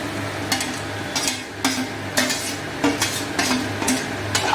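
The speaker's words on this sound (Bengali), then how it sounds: "হলুদ, এখানে কাশ্মীরি লঙ্কা, জিরে, ধনিয়ার গুঁড়ো, একটু আদা এবং লবণ, সবগুলো মিক্স করে দেবো" A spoon scrapes and clinks steadily in a pan as spices are stirred into palak paneer, with a soft frying hiss underneath and regular strokes about every half second.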